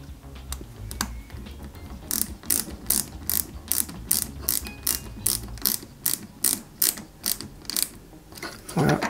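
Screws are driven into a part of a 1:8 Peugeot 205 GTI 1.9 scale model, heard as a long run of rapid, close ratcheting clicks in regular bursts, with a brief knock at the end.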